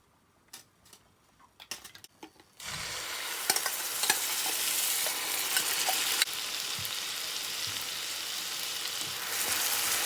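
Onion and garlic tadka in chili rapeseed oil sizzles loudly and steadily in a pan for a chickpea curry, with a spoon scraping and clicking as it is stirred, following a few scattered taps beforehand.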